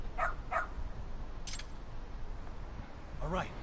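Several short, sharp barks from a dog in a video game, with a couple near the start and more toward the end, heard over steady background noise.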